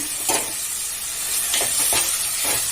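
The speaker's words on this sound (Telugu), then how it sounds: "నూనెలో బాగా కలుపుకొని ఐదు నిమిషాలు ఉడికించుకోవాలి" Boneless mutton being stirred in hot oil for a spicy curry, a steady sizzle broken by several scraping stir strokes, close and fairly loud with no talking.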